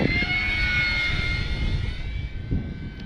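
An Arrows Bigfoot RC plane flies past with a steady, high motor whine that holds for several seconds, then slowly fades as it moves away. Wind rumbles underneath.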